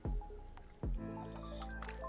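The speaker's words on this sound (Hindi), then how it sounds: "लेकिन बारिश हो रही थी" Water drops fall near the microphone during heavy city rain, landing twice in plopping splashes into pooled water, followed by ringing, resonant drips.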